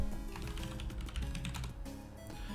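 Quick, steady keystrokes on a computer keyboard as a folder name is typed on a Windows 10 PC, close and clear with no voices.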